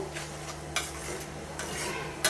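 Hot noodles stirred in a pan during breakfast cooking, a steady scraping and sizzling texture with a few sharper utensil strokes against the pan, close up and with no talking.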